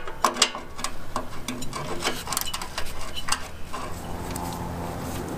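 A ratchet wrench loosens the oil drain plug on a pressure washer engine. It makes quiet, irregular clicking and ticking strokes close by, with faint rubbing between them.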